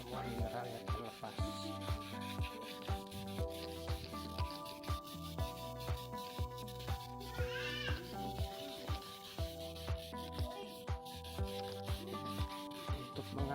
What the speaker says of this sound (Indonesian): Kita amplas lagi secara merata